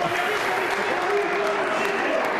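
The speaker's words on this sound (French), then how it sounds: "le public applaudit là" A basketball crowd claps and cheers in a gym, a busy wash of applause with a commentator's voice running over it.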